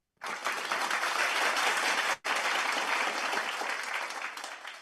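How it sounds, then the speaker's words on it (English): A dense round of audience applause greets a speaker at a club meeting. It breaks off briefly near the middle, then resumes and keeps going steadily to the end. "let us welcome him with a big round of applause"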